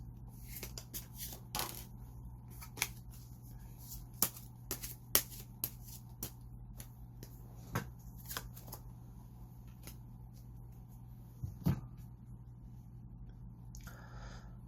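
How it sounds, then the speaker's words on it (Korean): Tarot cards are shuffled and drawn for a reading, heard as a string of quiet, sharp flicks and card snaps spread irregularly over a faint steady hum, with nobody talking. "그러면은 이제 한번 조언 카드 뽑아 보겠습니다"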